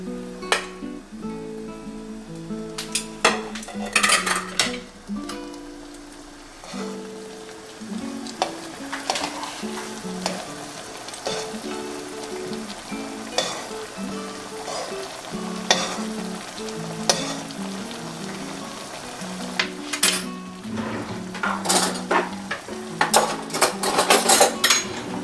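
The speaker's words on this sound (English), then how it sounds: "now we're going to place our salmon back in the pan" Salmon fillets set back into a pan meaty side down with cilantro broth, frying and sizzling steadily at close range, with clinks of utensils against the pan and music playing underneath throughout.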